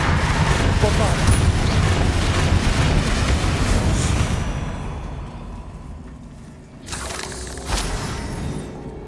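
A Bombarda blasting spell explodes in Hogwarts Legacy, a loud, dense burst of crashing debris and rumble that slowly dies away, then two sharper secondary impacts follow.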